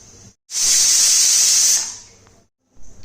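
Steam hissing from a pressure cooker after it has whistled five times, a loud, close, sustained hiss lasting over a second before tapering off, with softer hissing before and after the main burst.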